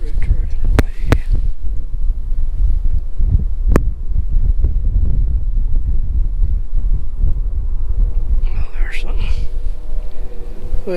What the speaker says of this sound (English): the wind's starting to get up